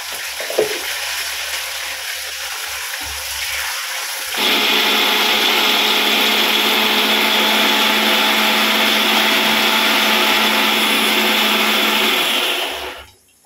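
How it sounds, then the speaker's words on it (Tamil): A mixer grinder grinds tomato, garlic and coconut. It starts up partway through and roars steadily and loudly for several seconds, then cuts off. Faint background noise comes before it starts. "தக்காளி, வெள்ளைப்பூடு, தேங்காய் இதை மட்டும் போட்டு அரைக்கிறேங்க"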